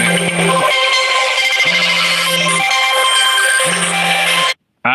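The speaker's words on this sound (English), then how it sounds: "I had a phone call coming through." A phone ringtone sounds for an incoming call, a loud melodic tune repeating in regular bursts with short gaps, then cutting off abruptly near the end.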